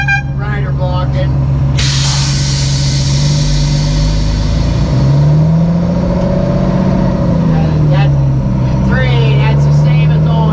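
Working tow truck heard from inside the cab, with a loud, steady low engine drone, a sudden hiss of air partway through and shifting engine pitch. Someone talks over the engine.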